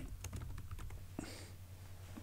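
Quick clatter of keystrokes on a computer keyboard as a short chat message is typed in a crime-mystery game, a dense burst of taps followed by a single firmer key press, close and alone with a steady low hum underneath.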